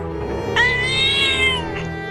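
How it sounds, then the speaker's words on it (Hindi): A large cat yowls loudly and close by, one drawn-out rising and falling wail with no talk around it. "वहाँ पर एक बड़ी बिल्ली चिल्ला रही है"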